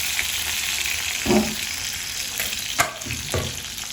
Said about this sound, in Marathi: कांदा टाकल्यानंतर कांदा तेलामध्ये चांगला भाजू द्यायचा